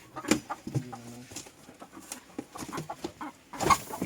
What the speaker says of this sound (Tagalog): yung dark mahogany natin na manok.